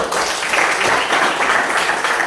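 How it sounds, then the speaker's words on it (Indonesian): Dense, continuous clapping from a classroom of students applauding an answer, close and steady for the whole stretch with no talking. "Ya, tepuk tangan dulu."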